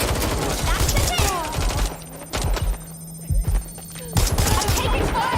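Gunfire in the video game Watch Dogs Legion, bursts of shots crackling in clusters with brief lulls between them, loud and close, over game background sound.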